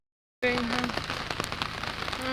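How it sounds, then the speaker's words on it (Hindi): Heavy rain begins abruptly after a moment of silence, a dense, loud hiss of drops pounding a surface, with faint tones briefly audible beneath. "ज़्यादा तेज़ बारिश होने लगी है"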